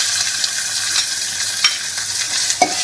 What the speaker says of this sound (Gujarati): ટમેટા સ્મૂથ થાય ત્યાં સુધી આપણે આને સાતળવાનું છે।